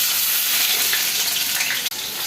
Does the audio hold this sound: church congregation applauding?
no